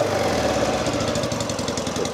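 A Norton Commando motorcycle engine runs close by, with its carburettor slides fully closed and its pilot air screws set almost fully rich. It holds a steady, loud mechanical chug with tappety ticking, easing slightly as it settles toward idle, and no voices.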